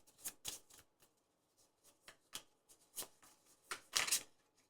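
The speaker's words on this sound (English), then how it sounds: "More shuffling." Tarot cards shuffled by hand in a quiet room, with a series of crisp riffling bursts of varying length, the loudest near the end.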